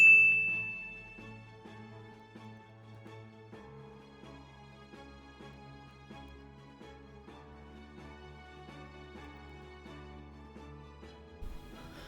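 A bright notification bell dings once at the start, clear and ringing, then fades into soft sustained background music.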